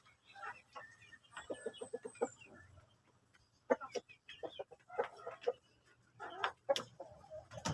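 Shamo chickens cluck in short, repeated bursts, close by and moderately quiet, with scattered pauses between the calls.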